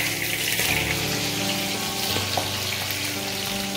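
Fish fries in hot oil for a fish curry with potato and mustard seeds, giving a steady, close, hissing sizzle that runs unbroken throughout without any talk.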